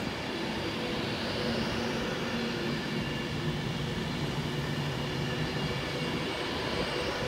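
An Avanti West Coast Class 390 Pendolino electric train runs through Stafford station on the West Coast Main Line, giving a steady, broad rumble and whoosh that holds evenly for several seconds, with no voices.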